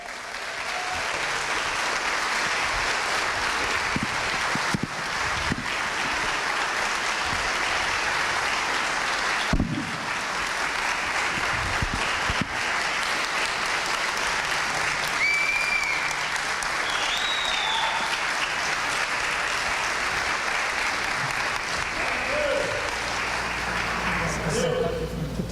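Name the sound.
church congregation applauding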